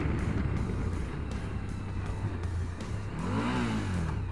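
A 2021 Suzuki V-Strom 1050 XT motorcycle ridden through twisty roads, a continuous low engine drone under wind rush that rises briefly as the revs climb near the end.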